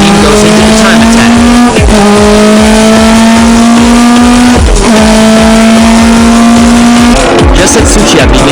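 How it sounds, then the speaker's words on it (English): A TRD race car on a time attack lap screams through repeated upshifts, its engine note climbing in long rising sweeps with sharp drops at each gear change, loud and close, with brief tire noise near the end. "Tsuchiya's TRD machine goes into the time attack."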